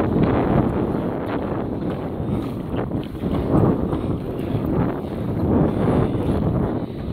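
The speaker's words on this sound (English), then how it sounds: "We're doing the pedal kayak." Hobie pedal kayak pedaled across the water at a Tahoe City rental, a steady broadband rush of water and wind noise buffeting the microphone throughout, loud and continuous with no voices.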